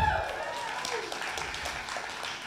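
Brief applause from an audience at a stand-up comedy talk, steady and moderately faint throughout the short stretch, with a voice faintly audible at the start.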